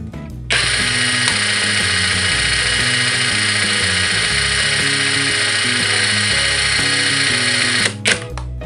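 A modified impact driver, adjusted to run slower, whirs loudly and continuously for about seven seconds with a rattling, hammering buzz, then stops abruptly with a few brief after-clicks.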